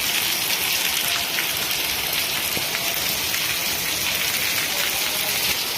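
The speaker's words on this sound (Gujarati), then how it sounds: "મોટી રાજસ્થળીમાં અત્યારે વરસાદ ચાલુ છે" Steady, heavy rain hisses down continuously in Moti Rajasthali near Palitana, a dense even patter on surfaces with no voices or other sounds breaking through.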